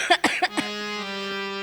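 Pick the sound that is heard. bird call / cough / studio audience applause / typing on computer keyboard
cough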